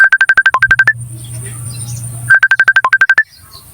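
A mobile phone ringtone plays two bursts of rapid, bright electronic beeps separated by a short pause, close and clear over a faint low hum.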